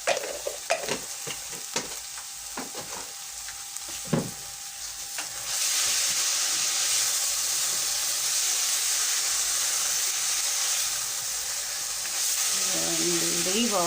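Tomatoes cooking in a pot for an egg stew, giving a steady hiss and sizzle that grows louder midway, with a few clinks and stirring scrapes early on.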